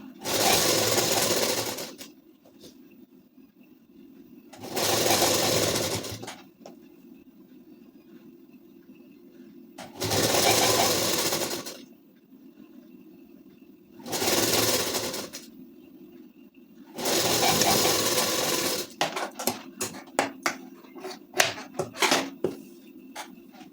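Sewing machine stitching ladies' suit fabric, running in five bursts of about two seconds each with quiet pauses between, followed by a stretch of short, rapid stop-start stitching near the end.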